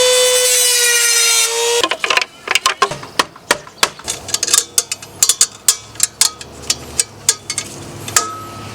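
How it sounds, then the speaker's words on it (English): A power tool cuts through a carbon fiber cover on a 2025 Ducati Panigale V4. A steady tonal whine gives way to a rapid series of sharp, loud, close rasping bites. "I'm probably just gonna cut off like right along here just so I can get it bolted up."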